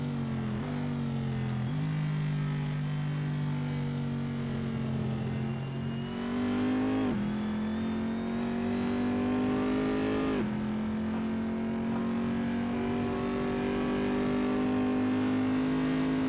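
Race car engine in a VR racing video game, droning steadily at high revs with rising pitch as it accelerates through gear shifts, loud and continuous throughout.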